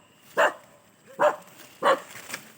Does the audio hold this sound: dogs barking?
yes